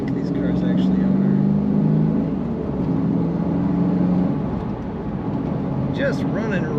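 A 1995 Pontiac Firebird Formula engine hums and revs steadily at close range, with someone talking over the motor.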